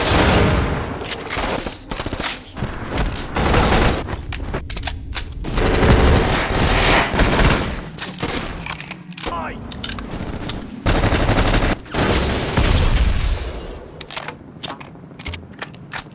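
Gunfire from the PS2 shooter Black rattles in rapid automatic bursts and dense fusillades, loud and close, with brief gaps between volleys and some in-game voices mixed underneath.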